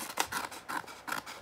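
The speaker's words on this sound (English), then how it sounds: "so you need to get scissors. You need to cut a straight line." Scissors cut a straight line through material, giving about four crisp, evenly paced snips up close, with no talking.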